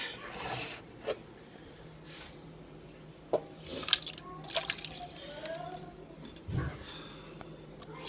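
Home-canned potatoes tipped from a jar into a pot for potato soup, a few wet plops and drips with scattered clinks and a soft squish, close and fairly quiet.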